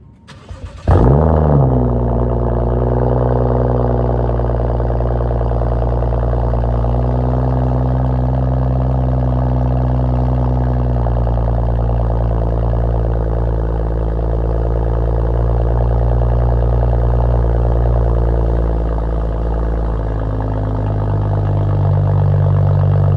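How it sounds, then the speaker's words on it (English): BMW 435i cold start recorded from behind the car: a cranking catch and flare, then a loud, steady high idle that slowly drops in pitch as it warms, with a couple of subtle rises in engine note. "and let you guys hear a cold start,"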